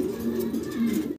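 Pigeons coo in a low, steady murmur from a large flock of quality pigeons kept for sale, close and continuous, with no talk, before the sound cuts off abruptly.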